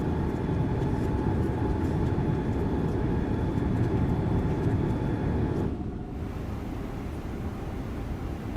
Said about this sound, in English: Those flap sounds are crazy, man.